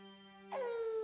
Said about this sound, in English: there I just heard the owl